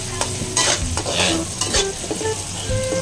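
Cassava leaves and sardines being stirred in a frying pan, with steady sizzling and repeated scraping and clinking of the utensil against the pan, close and fairly loud, while a voice speaks briefly at the start.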